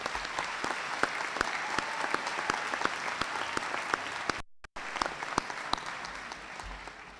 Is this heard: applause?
yes